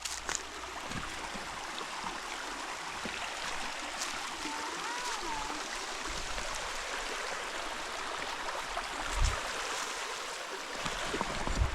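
A river flows steadily on a hike to Tula Tula falls in the Philippines, its broadband rush of water continuous and fairly close, with faint footsteps and movement mixed in.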